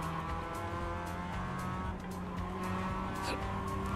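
A car in a sim racing game slides and skids with screeching tyres near a tyre barrier, its engine droning steadily underneath throughout, close and loud.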